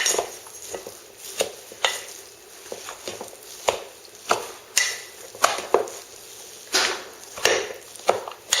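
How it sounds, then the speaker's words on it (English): A long wooden spoon works ground hamburger, bread and onion together in a bowl for meatloaf, giving a close series of rhythmic knocks and soft squishes, alone with no voices. "I'm going to take a nice long wooden spoon, separate the hamburger into the bread and onion."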